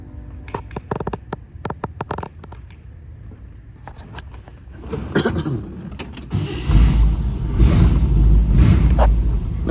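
A 1957 Chevy convertible that sat overnight cranks with a series of sharp clicks and bursts, then catches and settles into a loud, steady rumbling idle that builds and holds close by.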